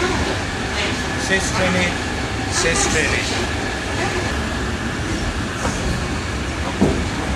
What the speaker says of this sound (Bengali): চলেছি আমরা শেষ ট্রেনে।